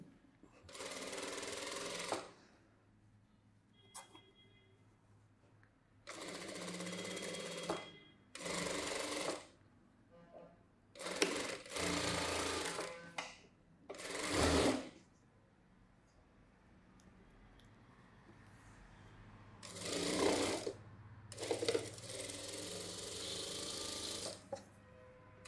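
A sewing machine stitches the lining of a boat-neck saree blouse in several separate runs of rapid mechanical chattering, each lasting a second or two, with quiet pauses between them and a low room hum underneath.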